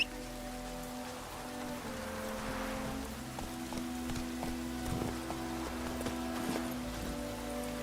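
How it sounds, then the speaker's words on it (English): Steady rain in the video game The Witcher 3: Wild Hunt patters on a surface with scattered louder drops, set against a sustained tonal music bed. "Let it rain."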